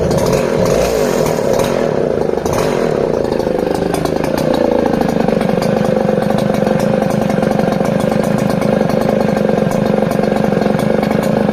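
A vintage 1960s Stihl 08S chainsaw fitted with a 21-inch bar idles loud and close. It settles from a rougher burble into a steady, lazy, even drone with no talking.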